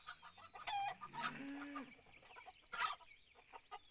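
A hen clucks on a farm in a series of short, bright calls, moderately close and fairly faint, with quiet gaps between the bursts and no talking.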